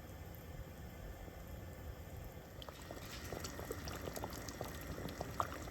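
Thick sugar syrup for candy apples bubbles quietly in a pot toward candy stage, soft low simmering at first, then brighter popping bubbles and small crackles toward the end.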